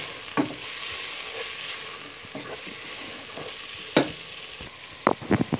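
Onion, tomato and chili mixture sizzles in a pan for sea bass fish curry while a spoon stirs it, with sharp scraping strokes near the start, middle and end over a continuous frying hiss. There is no talking.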